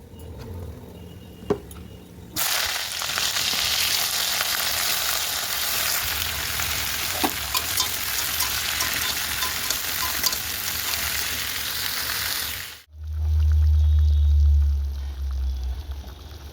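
Mixed vegetable curry with dried and green chillies and nigella seeds fries in a pan, a loud, steady crackling sizzle that starts abruptly and holds for about ten seconds, then cuts off to a low hum.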